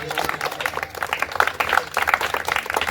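Loud, sustained clapping from a crowd honours the first-place shot put winner at a charity sports prize-giving, with voices mixed into the steady applause throughout.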